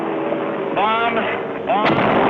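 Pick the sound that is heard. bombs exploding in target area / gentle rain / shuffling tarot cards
bombs exploding in target area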